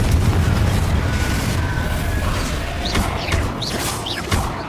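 Confringo spell blasts in the Hogwarts Legacy video game: a continuous rumbling barrage of explosive booms, loud and close, with sharp crackling bursts flaring near the end.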